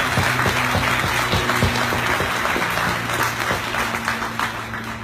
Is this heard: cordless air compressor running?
no